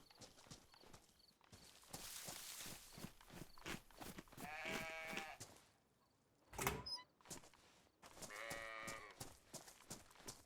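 Sheep bleating in the DayZ survival game, several short harmonic bleats standing out over trotting clip-clop hooves and ambient game noise, moderately close.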